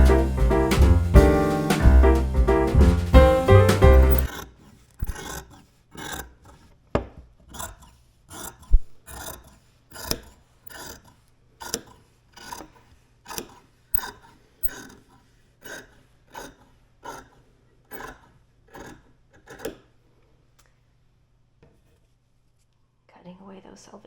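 After a few seconds of music, scissors cut fabric pieces for a prairie skirt in about twenty crisp, evenly spaced snips, close by and steady, then stop.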